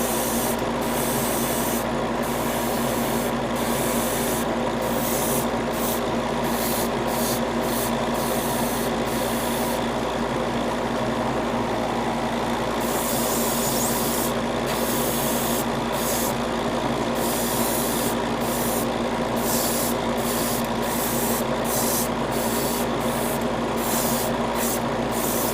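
Repeated bursts of spray paint hissing close by onto small toy model parts, short sprays separated by brief pauses, over a constant mechanical hum.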